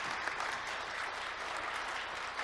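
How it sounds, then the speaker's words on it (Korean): Audience applause at a Korean management innovation talk concert, an even, moderately distant patter of many hands clapping throughout the short stretch, with no voices. "우리 네 분 박수님께 감사와 격려의 박수 부탁드리겠습니다"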